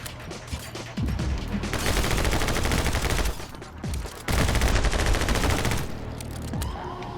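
Rapid bursts of gunfire from the action video game My Friend Pedro, dense volleys in two long stretches with short gaps, loud and close, layered over game music with no talking.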